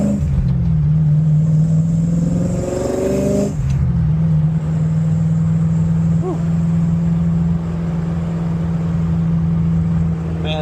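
An LS V8-swapped Hyundai Genesis Coupe on the road gives a loud, close engine drone that climbs in pitch, drops at a gear change and then settles into a steady cruising rumble.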